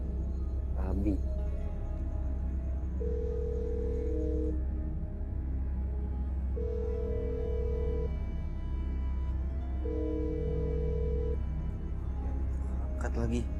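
Phone call-back ringback tone, three evenly spaced long beeps about two seconds each, repeating over a low steady hum, with a brief voice or noise burst at the start and end.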